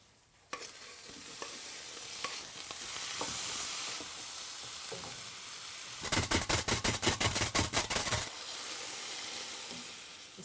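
Raw okra and roughly diced tomatoes tumble into a simmering pan of Burmese duck egg curry, giving a thump, a steady sizzle and bubbling, then a burst of rapid, rhythmic stirring or scraping near the middle before the simmer settles again.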